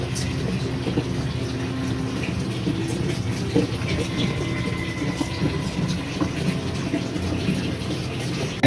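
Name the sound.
tap water filling an aquarium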